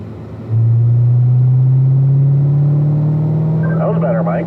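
A race car engine drones loud and close, pulling steadily up through the gears on a track straightaway, its pitch rising smoothly with faint rattles near the end.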